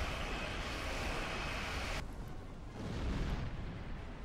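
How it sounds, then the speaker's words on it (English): A mine detonating against a spaceship in the Star Trek Online game: a dense, roaring explosion that rumbles loud and steady, then shifts to a deeper, duller roar as the upper hiss drops away, with no talking. "when that mine hits his ship, it's going to create something of a bang"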